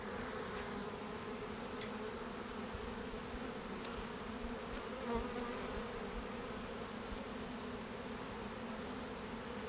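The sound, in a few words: honey bees buzzing in a hive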